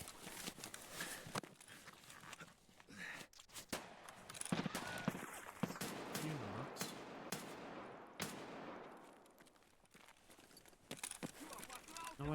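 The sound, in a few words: gunshots at the player in the video game Escape from Tarkov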